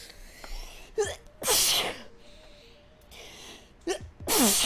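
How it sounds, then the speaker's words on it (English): A person sneezes twice, close and loud, each sneeze preceded by a sharp catching breath. "Oh, sympathy sneeze."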